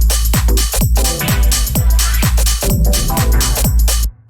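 Two layered tambourine samples in a funky deep house track, jingling in a steady rhythm over a thumping kick and bassline, loud and continuous until an abrupt stop near the end.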